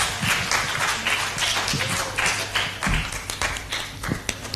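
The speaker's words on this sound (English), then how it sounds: "Can we have a round of applause, please?" An audience round of applause at a high school event, many hands clapping in a busy, uneven roar with occasional sharper claps and thumps close by.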